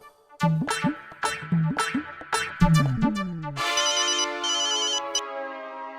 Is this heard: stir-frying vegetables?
no